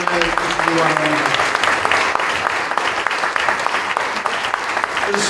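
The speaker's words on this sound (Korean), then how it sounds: "선물은 뜨거운 박수로 축복합니다." Warm applause fills a church hall during a thanksgiving service for a retiring pastor, many hands clapping steadily and loudly throughout, with a voice speaking briefly over it at the start.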